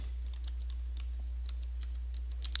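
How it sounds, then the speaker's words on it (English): A password is tapped out on a computer keyboard as a quick, uneven run of light key clicks, close but quiet over a steady low electrical hum. "You type in your password."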